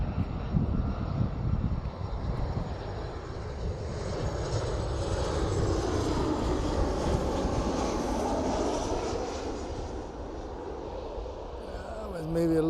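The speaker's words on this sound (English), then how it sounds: "WestJet, it's like an older 737. Yeah, 737-800 or something like that." A WestJet Boeing 737-800 jet airliner passes close at Toronto airport, a loud sustained broadband roar that swells and fades over several seconds, with people talking over it.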